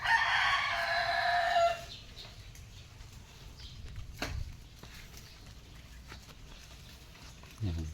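Native chickens crow loudly and close for the first couple of seconds, then fall to quieter clucks and farmyard rustling, with one brief crow returning at the end.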